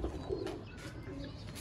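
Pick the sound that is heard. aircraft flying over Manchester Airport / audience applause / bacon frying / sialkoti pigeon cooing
sialkoti pigeon cooing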